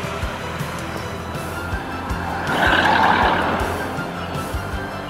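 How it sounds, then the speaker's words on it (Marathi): Road traffic on the Alipiri–Tirumala route, vehicles rumbling past close by with a steady hum that swells as one passes, marked by faint regular low thumps, with no voices. "11 नंतर बऱ्यापैकी ट्रॅफिक आता वाढलेलं आहे."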